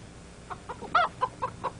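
Chickens cluck in a quick run of short, sharp calls, close and fairly loud, lasting under two seconds.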